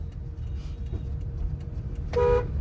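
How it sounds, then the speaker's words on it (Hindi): A car horn sounds in road traffic during a driving lesson, a single short honk near the end over a steady low rumble of engines and road noise. "लंबा हॉर्न कंटिन्यू बजाओ, नहीं बढ़ाएगा डिजायर वाला"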